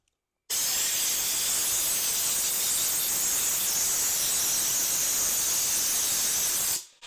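Compressed air blasting dirt out of a car floor mat, one loud steady hiss starting abruptly and holding for about six seconds before cutting off.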